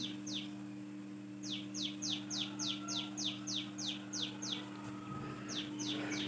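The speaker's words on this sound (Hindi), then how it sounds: "चिड़ियों की आवाज़ सुने कितनी खूबसूरत आ रही है" Small birds chirping outdoors in a series of quick, bright, evenly spaced tweets, a run of about a dozen calls with a short pause before a few more, heard at moderate distance over a low steady hum.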